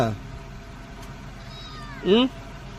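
A cat meows twice at close range, first briefly at the start and then a louder, drawn-out meow about two seconds later, over a low background of household noise.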